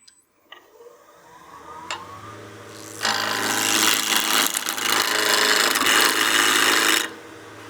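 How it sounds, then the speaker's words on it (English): Wood lathe making planing cuts on a spinning blank while turning a snowman oil candle: a faint rubbing scrape at first, then a loud, steady, continuous rasp for about four seconds before it stops abruptly. "we can bring our tool rest in just a little bit and start doing some planing cuts"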